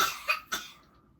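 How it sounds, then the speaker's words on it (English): Two quick, raspy coughs from a small child, close by, followed by a short fading breath. "I know the coughing is a good thing"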